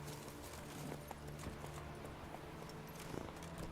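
Horse hooves clip-clop at a trot in The Witcher 3, faint and steady over a low game background hum with no talking.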